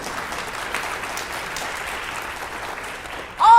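An audience claps at a conference keynote, giving steady, dense applause that carries on for several seconds before a voice comes in near the end.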